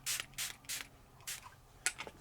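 A rose face mist is spritzed in a quick series of about five or six soft, breathy pumps, close and gentle, with short gaps between them and no talk.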